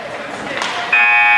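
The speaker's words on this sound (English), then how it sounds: "Buzzer officially sounds the end of the game" An ice hockey game's end-of-game buzzer in an ice sports arena blares loud and steady for the last half second, following a brief stretch of crowd and rink noise.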